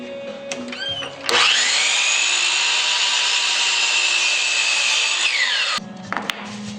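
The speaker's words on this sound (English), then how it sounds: "I'm gonna try to cut just a little bit off the edge here on the miter saw to make the rings smaller" A miter saw trims the edge off a wooden ring. The blade spins up, then holds a loud, steady high-pitched whine through a cut of about four seconds, and afterward winds down amid small clicks and handling sounds.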